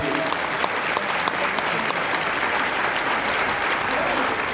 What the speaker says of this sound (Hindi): जो लोग खड़े उनके लिए तालियां बजा दीजिए